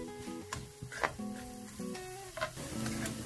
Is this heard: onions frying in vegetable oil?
yes